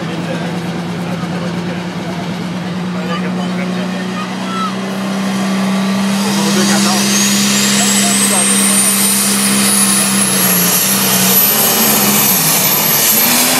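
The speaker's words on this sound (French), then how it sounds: "Lui, c'est un diesel." A diesel machine approaches at a St. Hyacinthe event in 2013, its loud engine drone swelling and a high whine rising as it nears, with voices talking over it.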